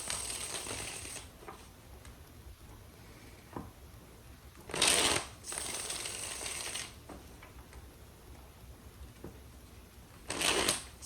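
Tarot cards are shuffled by hand in quiet, close rustling and snapping bursts, with a couple of sharper riffle flurries standing out against a soft background.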